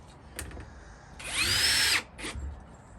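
A power drill whirs up briefly as it drives a screw into wood, preceded and followed by a few light knocks and handling sounds.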